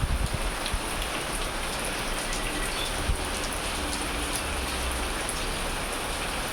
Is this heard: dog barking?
no